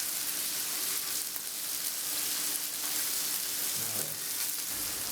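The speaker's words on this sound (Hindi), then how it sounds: "250 ग्राम क्लस्टर बीन्स डालकर मिला लेंगे, अच्छी तरह से मिक्स कर लेंगे।" Cluster beans sizzle in hot oil in a pan while being stirred for a Gujarati guvar dhokli dish, a steady close frying hiss with a few soft scraping stirs.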